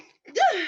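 A single short sneeze, close and fairly loud, preceded by a quick inhale and ending in a descending voiced tail.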